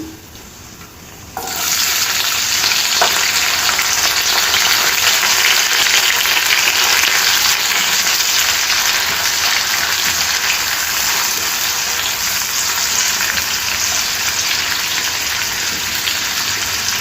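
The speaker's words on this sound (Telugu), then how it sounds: "ఇప్పుడు ఉల్లిపాయలు మనకు కొంచెం కలర్ చేంజ్ అయ్యే వరకు వేయించుకోవాలి." Sliced onions fry loudly in hot oil, with a dense, even hiss that starts suddenly after a quiet moment and holds steady, close and unbroken, with no talking.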